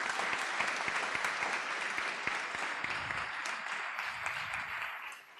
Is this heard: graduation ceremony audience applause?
yes